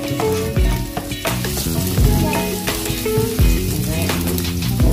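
Pasta-dish ingredients frying until golden brown in a hot pan, a steady loud sizzle with clattering stirring strokes recurring throughout.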